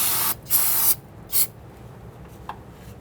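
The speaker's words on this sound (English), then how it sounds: "I'm going to use some solvent here and clean up this area." Aerosol solvent sprayed to clean the rear brake area of a 2011-2017 Nissan Quest, three loud close hissing bursts, the first two longer and the third brief, followed by quieter handling.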